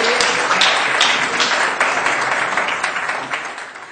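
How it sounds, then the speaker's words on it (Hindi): Loud, dense applause from the audience at a Hindi humorous poetry gathering welcoming a poet, sustained clapping with sharp individual claps standing out, tapering a little near the end. "जोरदार तालियां बजाकर आमंत्रित करिए।"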